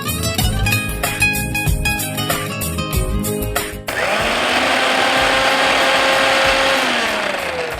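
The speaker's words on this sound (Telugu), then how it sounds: "ఇవన్నీ కచ్చాపచ్చగా మిక్సీ పట్టుకోవాలి." A mixer grinder coarsely grinds ginger pieces and cumin seeds, a loud continuous whirring motor roar that starts abruptly about halfway through after a stretch of other kitchen sound.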